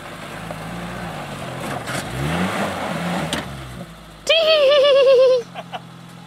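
A 4WD vehicle engine revs unevenly while driving with one wheel lifted, rising and falling in bursts. A brief loud high tone cuts in near the end, and a voice is faintly heard.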